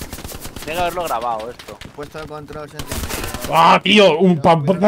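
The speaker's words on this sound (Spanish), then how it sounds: "Están disparando uno al metro del otro dentro de la casa" Gunfire inside a house in the video game Hell Let Loose, heard as scattered sharp shots mixed under close, animated talk that dominates the clip.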